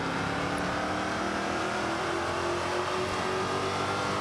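Race car in Forza Motorsport 5 droning steadily at high revs, a loud continuous engine tone with shifting harmonics as it drives on, with no talk.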